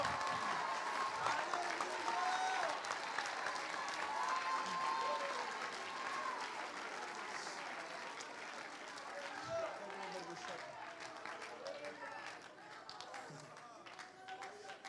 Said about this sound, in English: Somebody clap your hands like the angels too and praise the name.